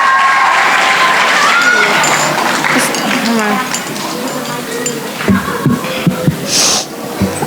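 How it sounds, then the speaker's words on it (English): A graduation crowd at an Islamic school ceremony applauds loudly at first, the clapping thinning and fading as murmured chatter and a few scattered claps take over. "Everybody give another round of applause for Ikram."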